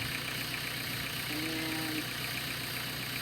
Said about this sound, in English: So I'm going to move the blue tractor out of the way.